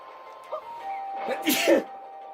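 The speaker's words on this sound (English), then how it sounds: "Gunpowder makes me sneeze." A single sharp sneeze, close and abrupt, preceded by a brief intake of breath over a steady background tone.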